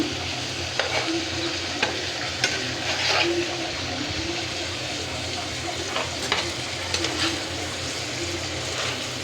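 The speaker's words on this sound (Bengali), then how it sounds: "একটু ভাজা ভাজা করে নিলাম।" Spices fry with a steady, close sizzle in a pan for poa fish bhuna, punctuated by a handful of light stirring clinks and scrapes.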